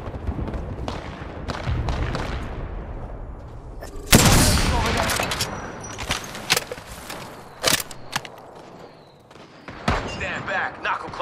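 Rapid bursts of gunfire and booming impacts from the Knuckle Cluster in the shooter game Apex Legends, a loud crack around the middle followed by scattered sharp pops, with a voice talking intermittently over the action.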